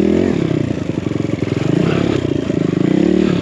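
BBR-built Kawasaki KLX170RF trials dirt bike ridden along single track, its single-cylinder engine loud and close with rapid pulsing firing that rises and falls through quick throttle changes, plus some clatter.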